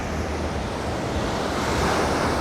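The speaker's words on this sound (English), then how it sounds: "this beautiful sound of the sea" Sea waves washing onto Bangtao Beach, a steady broadband roar of surf with wind noise across the microphone, continuous and fairly loud, with no voices.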